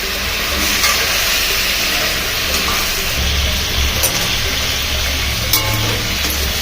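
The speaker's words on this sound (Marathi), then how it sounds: "हे चिकन आपल्याला तळताना गॅसची फ्लेम मोठीच ठेवायची आहे आणि सारखे याला खालीवर करायचे।" Chicken frying in a kadai over a high gas flame for tandoori biryani: a loud, continuous dense sizzle and hiss with occasional stirring scrapes, close up and alone.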